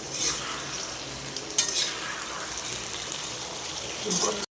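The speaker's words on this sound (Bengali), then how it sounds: "আস্তে নেড়ে নেবো একটু" Chilli chicken gets stirred in a sizzling wok, a continuous frying hiss with scraping spatula strokes and occasional clinks, ending in a short break.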